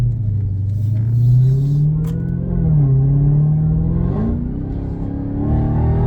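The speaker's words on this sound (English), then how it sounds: "Oh, the gurgle on pop. Wow, that exhaust is so sweet." Dodge Charger Redeye engine and exhaust rumbling loudly and continuously, with a deep drone that rises and falls in pitch as the throttle changes, heard up close with no voices.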